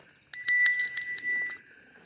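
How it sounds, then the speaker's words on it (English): A hand bell rings in a quick series of bright metallic strikes for about a second, close and clear, with no voices over it. "ring this bell right here"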